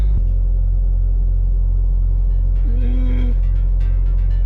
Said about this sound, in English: So the van is actually running fine.